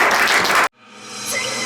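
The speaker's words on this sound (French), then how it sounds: "Acclame Dieu pour sa parole." A church congregation applauding during a worship service, loud clapping for well under a second before cutting off abruptly, followed by a quieter musical swell.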